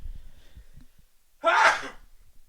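A single sharp sneeze bursts out close and loud after some faint low murmuring.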